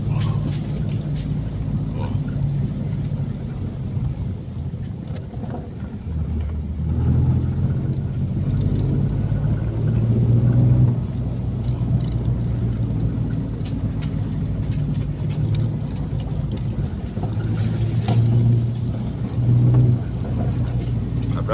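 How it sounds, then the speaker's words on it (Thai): A vehicle approaches along a road through deep forest, its low engine rumble droning steadily and swelling slightly as it nears, with faint background noise throughout. "คือรู้สึกว่ามีรถมานะครับเราผู้ชม"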